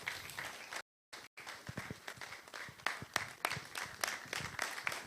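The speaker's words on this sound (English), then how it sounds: "A round of applause for your chairman." A fairly small audience at a road safety forum claps for their chairman, a faint, uneven patter of hands with a couple of abrupt silent gaps near the start.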